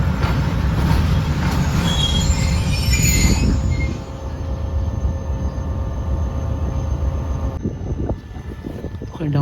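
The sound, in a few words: train passing at Belari railway station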